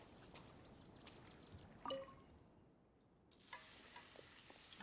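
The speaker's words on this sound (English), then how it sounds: "I like the sizzle sound" Food frying in a pan in a video game, a faint crackling sizzle under soft ambience, with a brief clink partway and a louder, brighter hiss rising near the end.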